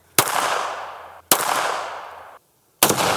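A Glock pistol fired three times, each a sharp, loud report followed by about a second of ringing echo, the shots spaced roughly a second apart with no talking.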